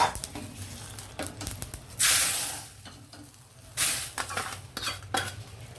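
Hot tempering hisses and sizzles loudly as it is poured into a pot of pigeon pea lentils, with metal clinks and utensil scrapes between two bursts of crackling.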